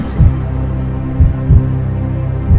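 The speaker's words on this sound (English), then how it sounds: "Your heart beating." Slow, deep heartbeat thumps recur at about one-second intervals over a steady low hum, loud and close, with no talk.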